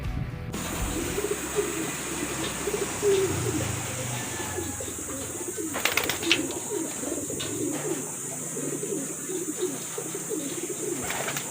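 Pet pigeons cooing while they bathe in a basin at a backyard loft, soft repeated coos and low murmurs running steadily throughout, with faint splashing and background hiss and no talking.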